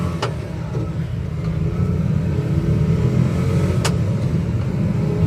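A Daihatsu Hijet 4WD mini truck drives down a street, its small engine giving a steady close low rumble that holds evenly, with a couple of brief clicks over it and no voices.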